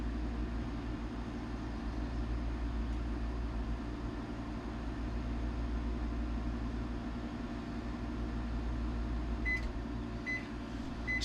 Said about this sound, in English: So I microwave it if I don't drink it fast enough